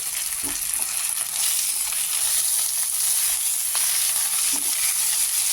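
Chicken kosha fries in a pan with ginger, coriander leaf, green chili and fennel paste, giving a steady, close sizzle with soft stirring scrapes throughout and no voices.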